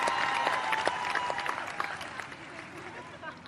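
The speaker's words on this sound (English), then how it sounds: "Give them a clap." Crowd clapping for the team at an outdoor championship parade for the FIFA Women's World Cup winners, a scattered burst of claps and cheers that thins out over a few seconds, with voices mixed in.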